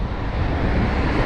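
Heavy wind buffets the microphone in a continuous low rumble, loud and close, with no other sounds coming through.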